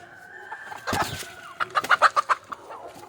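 A native country chicken clucks close by, a quick run of short, bright clucks after a few scattered noises, with no talking.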